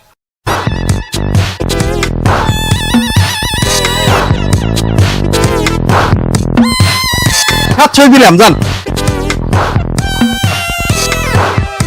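Chickens cluck and a rooster crows loudly and close by, in a busy run of sharp clucks and drawn-out crowing calls that fills the whole stretch after a brief silent start.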